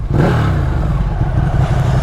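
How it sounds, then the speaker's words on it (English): A loud, close motorcycle engine with stock exhaust revs steadily with a deep throaty rumble and mechanical clatter, sustained throughout. "Give it a little rev, brother."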